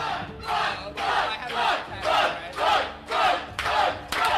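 A roaring crowd in a roguelike video game cheers in repeated rhythmic swells, about eight loud waves of shouting that rise and fall steadily without pause.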